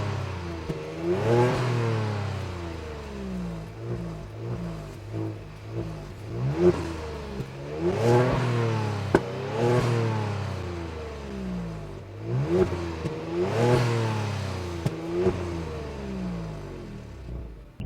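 A 2022 Genesis G70 with a 3.3-liter twin-turbo V6 accelerates hard through several gears. Each pull rises in pitch, then drops at the shift, loud and close, with no voices.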